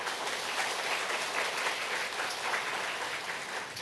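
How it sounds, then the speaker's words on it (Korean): A church congregation at a Sunday daytime worship service applauds in welcome, giving a full, even burst of many hands clapping that holds steady throughout. "우리 박수로 한번 환영하겠습니다."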